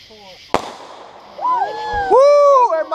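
Fireworks at a Fourth of July backyard gathering: a sharp nearby bang, then rising whistling and crackling bursts overlapping one another, with excited voices cheering throughout.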